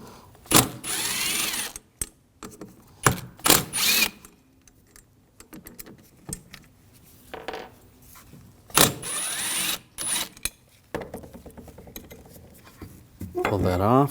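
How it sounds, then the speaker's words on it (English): Bracket bolts being removed with a T30 socket on a 2006-2009 Audi S4 during windshield wiper transmission replacement, with repeated bursts of ratcheting and metallic clicks, scrapes and clinks, close by and intermittent, with no talk. "Now take this bracket off, use a T30 socket, take these bolts out."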